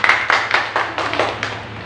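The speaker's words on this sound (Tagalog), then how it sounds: "Isang malakas na palakpak po muli sa ating Diyos na buhay." Church congregation clapping together during a worship service, a run of sharp claps in a steady rhythm, fairly loud and close, with no talk over it.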